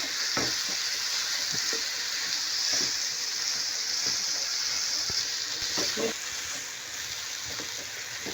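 Boiled, coarsely mashed potatoes being mixed for bread rolls give a continuous close hiss with scattered soft scrapes and thumps, and no one speaks.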